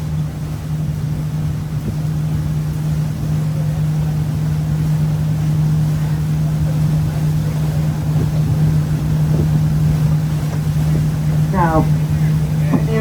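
A steady, low engine drone runs throughout, a boat cruising on open water among islands between the U.S. and Canada, with faint background noise and no speech.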